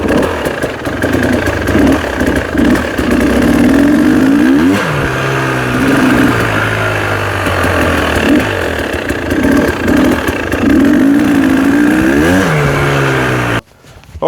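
Motocross motorcycle on a first lap around a dirt track, its engine loud and near throughout, revving up and easing off through repeated gear changes and throttle bursts, with no talk.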